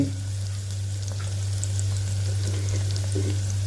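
Mint rice fries in a hot pan with a steady, close sizzle, while a spoon stirs and scrapes it for a few seconds over a low hum.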